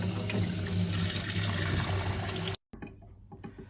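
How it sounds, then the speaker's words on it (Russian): Hot tap water runs steadily over rice being gently rinsed, a dense continuous splashing rush that cuts off abruptly near the end before a softer trickle resumes. "Рис тщательно, но бережно мою под горячей водой."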